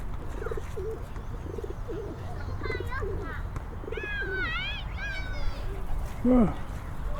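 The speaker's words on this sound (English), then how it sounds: "Some happy cooing." Pigeons coo in a rhythmic run of soft, low calls at a park pond, joined by a few chirping bird calls, heard nearby over steady outdoor background noise.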